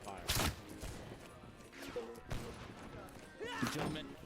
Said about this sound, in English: Boys are keeping up a nice hot fire.